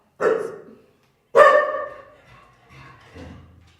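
A pet dog barks close and loud, two sharp barks spaced about a second apart followed by softer trailing sounds.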